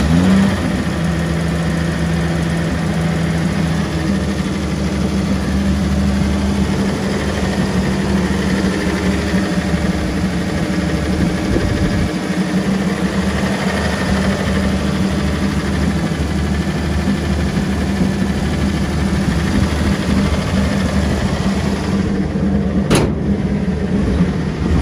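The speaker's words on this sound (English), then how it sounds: "So we're gonna fire it up now and then we'll drive it." A 1956 Chevrolet 210, a factory-original car, with its engine running at a steady idle. A continuous mid-pitched rumble and vibration holds close and loud throughout, with no speech.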